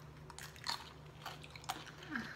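Chili nut M&M's candies being chewed and crunched by a few people at a taste test, with soft, scattered bites and crunches over a low steady hum.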